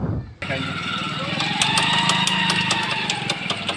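A motorcycle engine runs with a loose engine bolt, giving a close, steady idle laced with rapid metallic rattling and ticking while someone talks over it.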